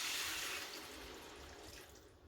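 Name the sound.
water being poured into egg curry gravy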